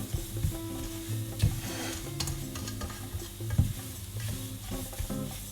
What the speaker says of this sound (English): Need to keep stirring it, otherwise it can get burned.